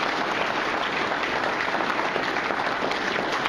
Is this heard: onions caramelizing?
no